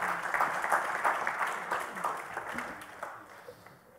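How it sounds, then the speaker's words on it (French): Audience applause at a talk on a humane economy, a moderate round of clapping that gradually thins and fades toward the end, with faint murmuring beneath. "On peut applaudir, on a le droit."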